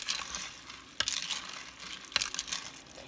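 Pinto beans with seasonings and parsley are stirred in a pot, a faint wet scraping and clinking under a soft background hiss, with a few sharper knocks of the spoon.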